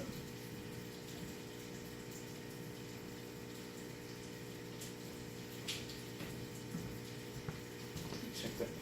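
A Laguna 4000 pump drains aquarium water during a 150 water change, giving a steady low hum and churning rush that continues faintly and evenly throughout.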